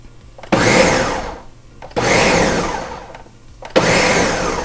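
A blender pulses fresh tomatoes for marinara sauce in three short bursts, each a loud whirring roar that rises sharply and tapers off, separated by brief quiet pauses.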